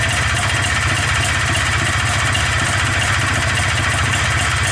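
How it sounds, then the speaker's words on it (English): A Polaris Xplorer 250 ATV engine fitted with a Yamaha Blaster carburetor idles on choke, a rapid, even chugging pulse heard up close and continuous with no voices. "I don't know what this should be idling yet."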